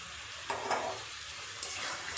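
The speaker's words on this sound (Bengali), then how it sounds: "আলুগুলো দিয়ে আর একটু মশলার সাথে ভালো করে কষিয়ে নেব" Fried potatoes tossed with spice masala in a pan make a faint, low sizzle, punctuated by a few soft scrapes and taps from stirring, ending with a slightly sharper knock.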